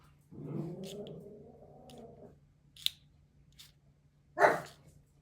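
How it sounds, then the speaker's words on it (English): A tiny dog vocalizes indoors during shrink-plastic earring crafting, a drawn-out whining growl lasting about two seconds, then a single sharp, fairly loud bark a couple of seconds later, with faint clicks like scissors between them and no talk. "I got a happy dog."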